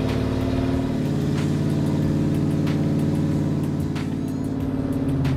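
A custom Chevy Impala lowrider's engine rumbles steadily at close range, a deep throbbing idle that rises briefly in revs near the end, with faint clicks over it and no talk.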